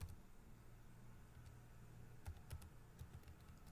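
Faint keystrokes on a computer keyboard while entering a title into a Microsoft Excel spreadsheet, quiet irregular taps with a few slightly louder clicks near the end over low room hum.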